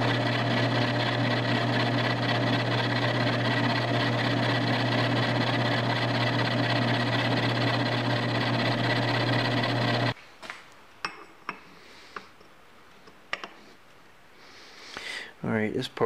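Lathe steady rest part being machined to fit, with a steady loud mechanical drone for about ten seconds that stops abruptly, followed by scattered clanks and handling knocks.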